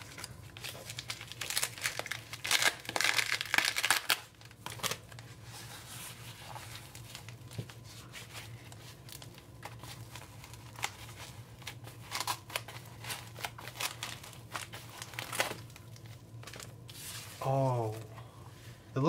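Paper and plastic wrapping crinkle and rustle up close as a gift package from a mail exchange is opened, with irregular bursts of crumpling and a brief voice near the end.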